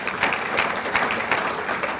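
A conference audience claps steadily, a dense patter of many hands in an indoor hall at moderate loudness, with no voices over it.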